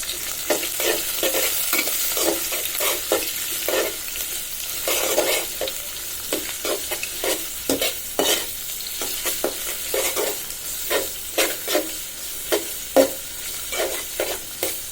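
Spice paste for chicken curry with potatoes stir-fried in a pan, a strong continuous sizzle broken by frequent rhythmic scraping strokes of a spatula, close up with no voices.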